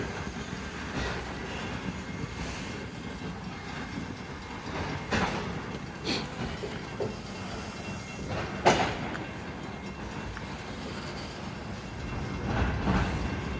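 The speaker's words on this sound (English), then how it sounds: "I want to wait 5 minutes for a train to go by." Tank train running right behind a loaded coal train in Mount Hope, a steady low rumble of rolling rail cars with faint clanks and occasional sharper knocks, heard from the trackside at moderate distance.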